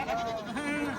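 A goat at a livestock market gives a single wavering bleat lasting about a second, close and clear over faint background noise.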